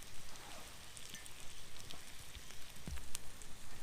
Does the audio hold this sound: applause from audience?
no